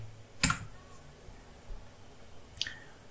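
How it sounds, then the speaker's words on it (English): A few scattered keystrokes on a computer keyboard as a build command for a Flutter app bundle is typed, with two sharp clicks standing out against a quiet background. "I will type Flutter build app bundle."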